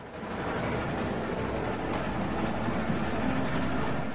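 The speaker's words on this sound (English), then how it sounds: "So stop the goddamn train." A train runs along its rails in The Walking Dead video game, making a steady, dense rumble with faint clatter that stays constant for the whole stretch, and no one speaks over it.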